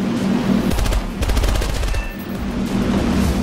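Aircraft cannons fire in War Thunder, a video game, in rapid, dense bursts with a thumping low end, heard up close over constant engine noise in a dogfight.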